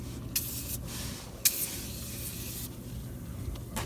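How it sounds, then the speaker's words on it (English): Aerosol degreaser sprays in several short, close hissing bursts while working on a leaking power steering system of a 2003 Mazda Tribute outdoors. "So I'm just gonna use the aerosol one."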